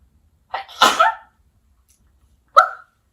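A single loud sneeze with a quick gasp leading into it, followed a second later by a short, sharp voiced sound. Quiet otherwise.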